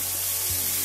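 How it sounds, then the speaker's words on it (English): Onions and mushrooms, including sliced baby bella mushrooms with green and red onion, sizzle steadily in a hot pan after the meat has been removed, a close, continuous frying hiss with no talking. "I'm gonna put the onions in and the mushrooms."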